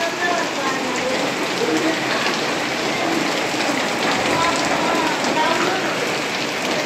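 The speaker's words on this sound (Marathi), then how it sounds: "तुम्हाला बाहेरून दाखवते कसं खूप जोराचा पाऊस झालेला आहे" Heavy rain pours steadily outside a home on a Diwali evening, a dense, even hiss of drops striking surfaces that fills the whole stretch with no pauses and no talk.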